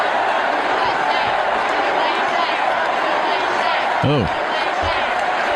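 A large crowd at the 2008 Republican Convention fills the space with a loud, steady roar of voices and chanting. A nearby voice briefly cuts through just past the four-second mark.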